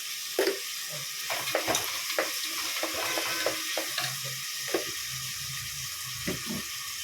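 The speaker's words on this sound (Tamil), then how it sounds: "தக்காளி சேர்த்து நல்லா வதக்கி விட்டுக்கோங்க" Tomatoes and onions with salt are sautéed in a pan, giving a steady soft sizzle broken by scattered spoon scrapes and stirring knocks, heard close with no talking.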